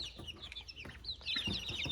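Soft, scattered clucking and peeping from four-week-old chicks in a brooder, a steady chorus of small bird calls with no talking.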